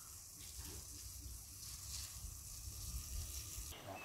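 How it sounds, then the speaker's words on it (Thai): A pot of water with puffball mushrooms and fish sauce simmers toward a boil, giving a steady, soft bubbling hiss that continues evenly throughout. "ตอนนี้เดือดแล้วเนาะ"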